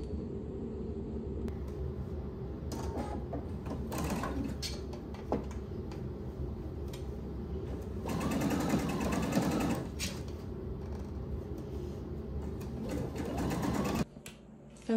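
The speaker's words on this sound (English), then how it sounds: "you're going to stitch the seam allowance on the facing side, and you're going to stitch it as close to this seam line as you can" A domestic sewing machine understitches a seam allowance onto a facing, running in a steady, close whirring stitch with short stops and starts and one faster burst midway.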